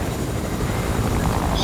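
A helicopter in the Fortnite video game whirs steadily as a loud, continuous rotor and engine drone that fills the whole stretch.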